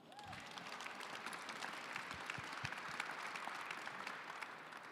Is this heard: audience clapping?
yes